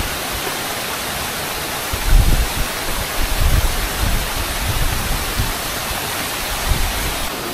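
Kataldhar waterfall at Rajmachi in monsoon, a constant broadband roar of falling water with low rumbling gusts of wind buffeting the microphone, no talking.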